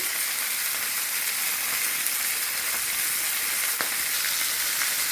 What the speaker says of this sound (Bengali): মাছগুলো ভাজা হয়ে যাচ্ছে আর এখানে ভেজে রাখছি কতগুলো আর মাথাগুলো ভাজতেছি